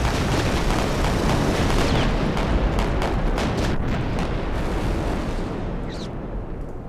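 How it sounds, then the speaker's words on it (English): A battleship firing its guns in the naval video game Victory At Sea Pacific, a loud, sustained roar of heavy booms and rumbling blasts that slowly eases toward the end. "Oh my god, the battleship just shot the Pentecostal."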